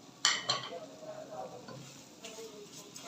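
Grated carrots and sugar being stirred in a pan for gajar ka halwa, close scraping and clinks of a spoon against metal with a soft sizzle, a few sharp knocks early, brief voice in the background.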